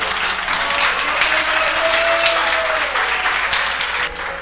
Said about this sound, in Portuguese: pode glorificar a Jesus com palmas bem alegres